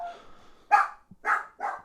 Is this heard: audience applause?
no